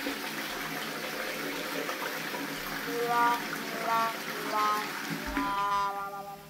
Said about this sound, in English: We'll flush some toilet paper down,